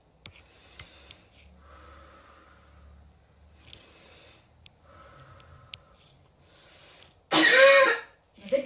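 A person takes several soft breaths and then gives one loud, forceful deliberate cough to clear phlegm, close to the microphone, with a short faint sound just after.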